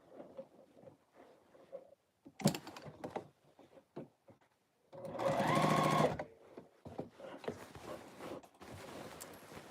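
A sewing machine runs a basting stitch on a garment sleeve, with one sustained loud whir of about a second near the middle and a brief burst earlier, amid quieter handling sounds.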